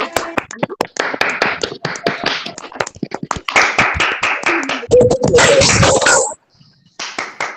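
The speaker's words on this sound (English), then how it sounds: "can unmute yourself and clap for Mr. Rajiv sir" Online meeting participants clap over unmuted microphones during a WordPress workshop, giving scattered, uneven bursts of handclaps from several sources that overlap and come and go, with a brief lull near the end.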